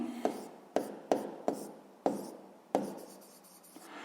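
Hand-written math working for a sixth-grade exercise, pen scratching on paper in a series of short strokes with sharp starts and fading tails, close and alone with no talk.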